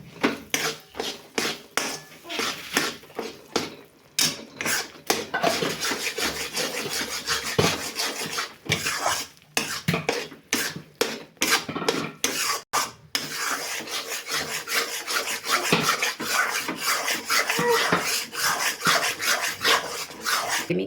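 Gram flour roasting in ghee in a pan over a low flame for besan laddoos, stirred with steady rasping, scraping strokes close up, continuous and loud, without talk.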